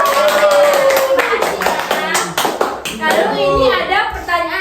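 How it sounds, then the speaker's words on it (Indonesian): A primary school class clapping hands together in a rhythmic pattern, sharp claps in a quick series close by, interleaved with children's voices speaking. "Oke, jadi beri tepuk tangan dulu."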